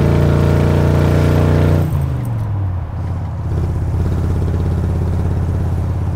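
Mad Max V8 Interceptor replica muscle car with an exhaust built from Land Rover silencers and imported zoomies: a loud, close, throaty V8 rumble that drops from a high rev back to a deep, lumpy idle.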